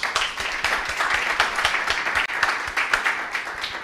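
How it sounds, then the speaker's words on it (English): Audience applause for datathon finalist teams, a steady dense wash of many hands clapping throughout, moderately loud and without talk. "So applause for all of you"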